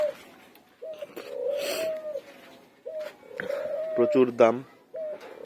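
Pigeons kept as foster birds in a loft coo in repeated soft, throaty phrases close by, alternating with a person talking.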